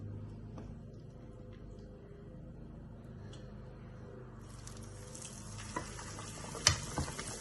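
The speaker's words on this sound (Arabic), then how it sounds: "هسه عندي هنا مقلاة بها زيت" Oil in a frying pan for Iraqi meat and cheese burek or sambusa gives a soft, steady sizzle up close, with a few small clinks near the end.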